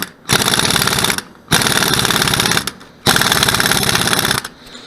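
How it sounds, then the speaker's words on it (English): Impact wrench hammering to drive a gear out of a Suzuki Burgman scooter case: three long, loud, continuous rattling bursts of about a second each, separated by brief pauses, close by with no talk. "you're going to have the impact on tighten, and you're just going to basically drive that gear in."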